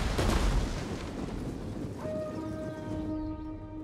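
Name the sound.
ballistas firing in video game Total War: Rome 2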